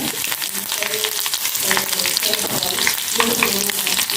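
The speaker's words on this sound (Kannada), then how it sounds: "ಕಾಲು ಟೀ ಸ್ಪೂನ್ ಒಗ್ಗರಣೆಗೆ ಮತ್ತು ಸ್ವಲ್ಪ ಕರಿಬೇವು" Urad dal and curry leaves sizzle in hot oil for tempering a mango curry, a dense steady frying hiss with crackling pops and faint stirring throughout.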